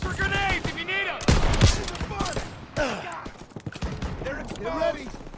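Gunfire crackles in a Call of Duty WW2 battle in the video game campaign. Loud shots and bursts ring out among shouting soldiers, with a sharp volley near the middle.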